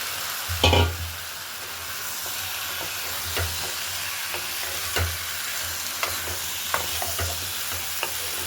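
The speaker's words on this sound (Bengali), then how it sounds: "ভালো করে কষিয়ে নিয়ে কেটে রাখা শিমটা দিয়ে দেবো" Cut flat beans and potatoes stir-fry in a pan for a dried-fish curry, giving a steady hissing sizzle with a heavy clatter early on and periodic scrapes and knocks from a spatula, close up, no talking.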